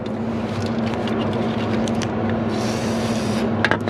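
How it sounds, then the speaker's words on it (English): A WD-40 aerosol can sprays into an electrical connector while a NOx sensor is replaced on a 2016 Ram 2500 with the 6.7 Cummins, giving a close, steady hiss that runs for several seconds. "Spray a little WD in there."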